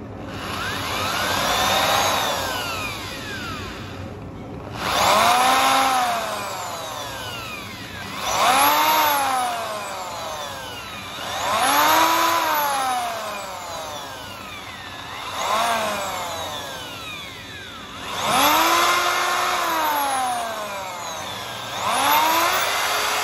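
Power drill boring into a Yemenite shofar horn in repeated bursts of about two to three seconds, each a rising whine that winds up and then falls off, separated by short pauses.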